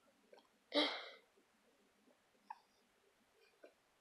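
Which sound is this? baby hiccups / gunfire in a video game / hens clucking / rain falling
baby hiccups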